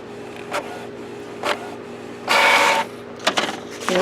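A Canon Maxify inkjet printer fitted with a continuous ink refill system printing a nozzle check pattern: soft print-head shuttle whirs and clicks, a louder half-second mechanical feed burst, then rattling paper movement, all close and alone.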